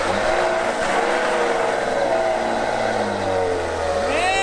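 A 2020 Ram 1500 Tradesman pickup revs hard while a lifted wheel spins in muddy ruts, a loud steady engine roar rising and falling in pitch throughout, with a whining climb near the end.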